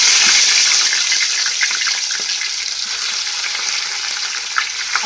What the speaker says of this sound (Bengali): তেল প্রচণ্ড গরম হয়ে গেছে। এবার মাছের মাথাগুলোকে আগে দিয়ে দেবো।